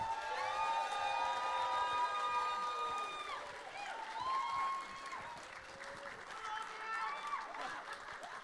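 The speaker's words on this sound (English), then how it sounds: "So please give him the applause you would have given him at opening ceremonies" A convention crowd at a pony con's closing ceremonies applauds its con chair. Sustained applause and cheering from the room blends with shouted voices and whoops.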